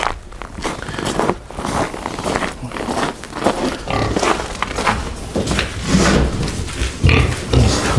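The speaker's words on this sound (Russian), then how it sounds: "пару свинок и пару кабасей" Domestic pigs and wild boars grunt and root about at close range on a farm, giving a steady stream of rough snorts and shuffling noises with no voices over them.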